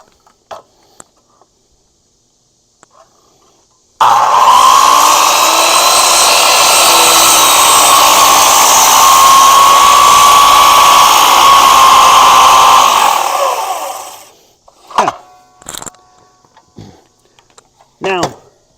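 A power saw cuts a wooden deck post in one long, loud, continuous whine lasting about nine seconds, then winds down and stops. Light handling knocks and clatter follow.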